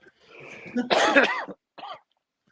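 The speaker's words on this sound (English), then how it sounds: "You got a contact cough." A person coughs and clears their throat in a short rough burst, then gives one smaller cough, close and loud.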